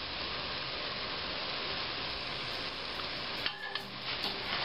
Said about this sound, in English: And we'll stir this a little bit